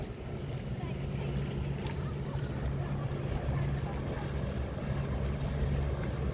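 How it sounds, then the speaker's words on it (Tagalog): Fishing boats moving in and out of a harbor, heard as a steady low engine rumble mixed with wind buffeting the microphone and the wash of water, continuous and fairly close. "Walang tigil yung labas at pasok ng fishing boat."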